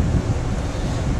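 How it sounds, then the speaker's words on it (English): Strong wind from an incoming cold front roaring and buffeting against the microphone, a constant low rumbling gust with no voices. "It's super, super windy out."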